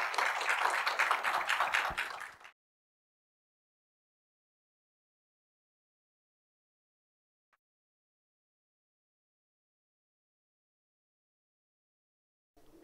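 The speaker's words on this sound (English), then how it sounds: "they deserve a round of applause" A short burst of applause from a conference audience at an Italian-Azerbaijani youth forum lasts about two seconds and then stops suddenly, leaving near silence for the rest of the clip.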